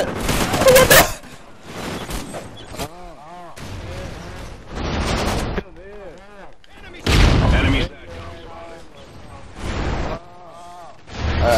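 Video game gunfire erupts in loud bursts of rapid shots and booms, separated by quieter gaps where a voice talks over the action.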